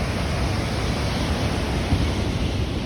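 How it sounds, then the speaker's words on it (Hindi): The fast-flowing Dhauli Ganga river roars in a dense, constant rush of water, loud and close, drowning out everything else with no speech audible. "आवाज़ सुन लो नदी की, शायद मेरी आवाज़ ना आ रही हो"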